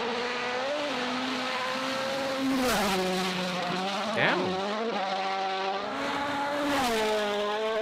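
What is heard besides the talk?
rally car driving through a forest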